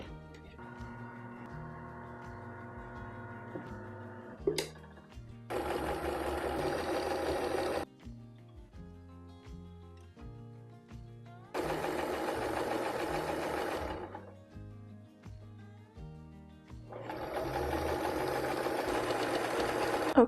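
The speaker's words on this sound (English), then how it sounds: "I'm gonna get the sewing machine set up and we're gonna get going." A sewing machine whirs in several bursts of steady stitching while piecing a quilt, separated by quieter pauses with faint background music.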